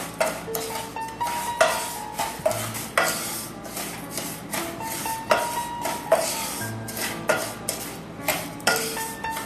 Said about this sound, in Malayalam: റവ ഒന്ന് ചുമന്ന് കളർ വരുന്നവരെ ഇതിലേക്കിട്ട് ഈ സമയം വറുത്തെടുക്കാവുന്നതാണ്